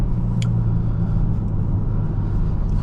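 A 2023 Genesis G70 3.3T AWD drives along with a steady, loud, low engine and road rumble heard from inside the cabin, without talking.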